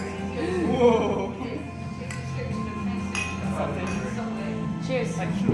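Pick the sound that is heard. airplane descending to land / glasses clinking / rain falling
glasses clinking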